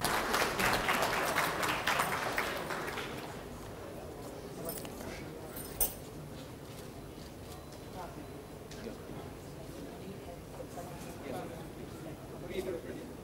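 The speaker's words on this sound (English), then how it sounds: "Round of applause, please, folks, for Tahira Abdullah." Audience applause greets a speaker introduced at a public event, loud at first and then thinning to scattered claps and a few isolated sharp claps over quiet room noise.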